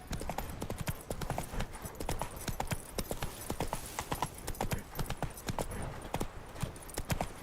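Roach the horse in The Witcher 3 trotting, hooves striking in a steady, rapid clip-clop rhythm, fairly close and moderately soft throughout, with no other prominent sounds.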